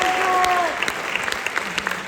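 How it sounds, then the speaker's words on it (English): An audience applauds graduating wind ensemble students, a brief warm burst of many hands with a voice and a tone at the start, then thinning into scattered individual claps. "We give them a round of applause."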